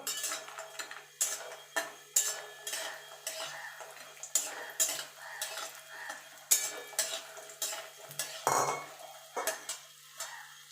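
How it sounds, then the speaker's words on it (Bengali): Lentil dumplings (bori) go into hot oil in a kitchen pan, with a soft sizzle under repeated metal spatula scrapes and clinks against the pan, a steady rhythm of stirring strokes close by. "তেলটা গরম হয়ে গেছে এবার আমি বড়িগুলো আগে ভেজে নেব"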